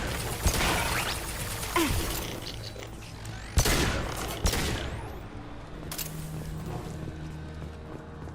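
Sci-fi gunfire with warp ammo in Mass Effect 2 cracks out in sharp, loud bursts, several shots spaced irregularly across the stretch, with booming impacts and a lingering metallic rumble between them.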